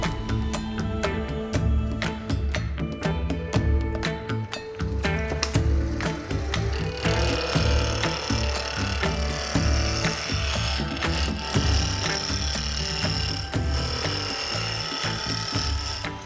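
A wood lathe turns a small wooden nozzle for a flask, sized to fit a 30mm hole, with a continuous whirring hum and scraping, rasping tool contact that grows denser and brighter partway through.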